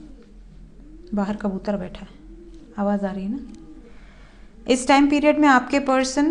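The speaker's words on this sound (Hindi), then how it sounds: "बाहर कबूतर बैठा है, आवाज़ आ रही है ना" A pigeon sitting outside coos softly in the background, low repeated hoots between and under a person talking nearby.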